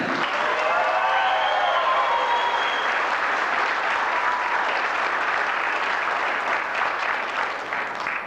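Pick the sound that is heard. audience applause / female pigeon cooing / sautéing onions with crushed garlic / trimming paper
audience applause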